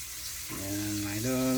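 Fish frying in a pan gives a steady, soft sizzle that swells slightly partway through, heard fairly close with no voices.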